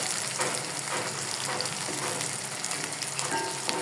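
Garlic and onion sizzle steadily in hot mustard oil as a tempering, a dense, even crackle that stays close and loud throughout with no voices.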